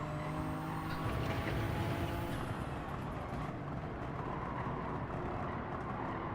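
A car engine in a racing video game on the Trial Mountain circuit, the car understeering under power: a loud, steady engine roar with road and tire noise runs unbroken throughout, with no talking.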